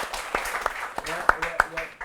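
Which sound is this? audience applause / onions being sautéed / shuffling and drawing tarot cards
audience applause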